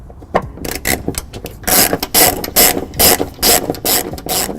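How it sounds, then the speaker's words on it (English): A ratchet with a 10mm socket loosens bolts on a 2012 Honda CR-V during a trailer hitch installation, making rapid clicking bursts followed by a steady run of loud, rhythmic ratcheting strokes close by. "we're going to be using a 10mm socket to lower them down"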